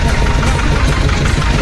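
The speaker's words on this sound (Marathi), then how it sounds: "बोट स्टार्ट मेरले" A large boat engine running, a dense steady rumble with rough low throb filling the whole stretch, loud and close, no voices over it.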